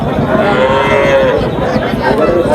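A cow moos loudly and close at a rural cattle market in Chapai Nawabganj, one drawn-out low call over a busy background of livestock and crowd.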